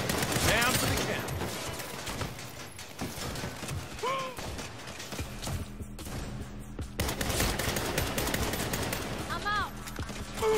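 Sniper gunfire rings out during a building ambush in the game Saints Row, with repeated sharp shots and bursts over a busy game soundtrack and scattered effects.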